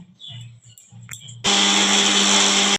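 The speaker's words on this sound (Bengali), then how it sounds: "মশলা চালমগজ পোস্ত আর কাজু বাদাম দিয়ে বাটবো" An electric blender grinds melon seeds, poppy seeds and cashew nuts into a spice paste. After a moment of quiet clatter, the motor kicks in with a loud, steady high whine that runs just over a second before cutting off sharply.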